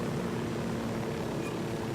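Helicopter in the video game Ghost Recon Wildlands flying, giving a steady, continuous rotor and engine drone that stays even and close throughout.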